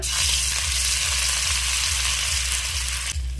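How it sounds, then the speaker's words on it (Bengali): Ginger paste fries in a hot wok with steady, close sizzling and a low rhythmic hum underneath, continuous for a few seconds without voices. "এবার কড়াইতে দেব আদা বাটা।"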